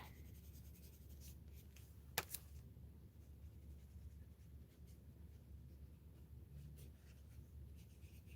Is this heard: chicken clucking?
no